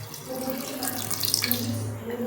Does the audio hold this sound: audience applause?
no